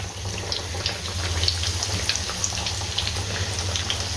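Chicken patty dropped into hot oil and frying, a steady close sizzle and hiss with scattered small pops and crackles throughout, no talking.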